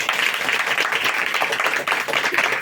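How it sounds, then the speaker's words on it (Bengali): A church congregation claps together loudly and continuously, a dense, steady wash of applause with no breaks and nothing else audible over it. "আরে জোরে হাততালি দিন সবাই, একটা জোরে হাততালি দিন।"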